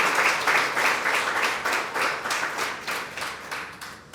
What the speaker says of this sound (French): Et je voudrais vous demander de l'applaudir